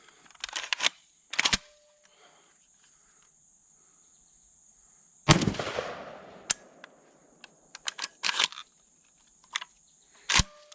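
Landor Arms BPX902 Gen 2 bullpup rifle firing low-powered ammunition that may not cycle the action: several sharp, irregularly spaced reports, some in quick pairs, over a faint steady high-pitched whine, with no talking.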